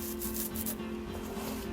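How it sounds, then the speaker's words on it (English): Close, quiet rubbing of a sanding stick against hard plastic on a Tamiya Churchill Mk VII tank model kit, short strokes in a steady back-and-forth rhythm, with a faint hum beneath. "we want to reshape those with a sanding stick"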